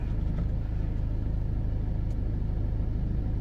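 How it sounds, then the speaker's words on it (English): A lorry passing on the road makes a continuous low engine rumble, steady and fairly close, with no talk over it. "let's let this lorry through."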